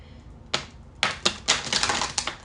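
A Rider-Waite-Smith tarot card deck is shuffled on a table in a run of sharp, riffling bursts, first a single snap and then several quick flurries of card clicks close by.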